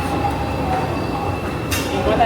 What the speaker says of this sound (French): Premier métro.